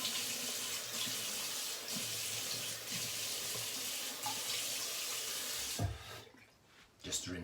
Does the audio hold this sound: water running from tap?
yes